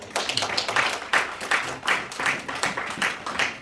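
A congregation claps in steady rhythm during a Sunday Pentecost church service, a sustained run of roughly evenly spaced group claps at moderate level, with no voices over it.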